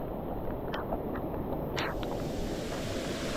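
Rain falls on a wet road near a Konkan waterfall, a broad, steady outdoor roar of water and wind with a couple of faint knocks, no voices.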